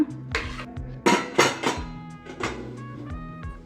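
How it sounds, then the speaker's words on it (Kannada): A few metallic clanks and clinks of a pressure cooker lid being set and pressed onto the cooker, irregular and close, with quiet gaps between. "ಕುಕ್ಕರ್ ಮುಚ್ಕೊಳ್ಳೋಣ"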